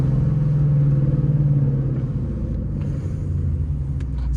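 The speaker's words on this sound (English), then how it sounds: "Downshift, downshift, downshift again" A car with an automatic gearbox and paddle shifters rumbles at close range as it is downshifted, a steady low engine drone that dips and settles, with no talking.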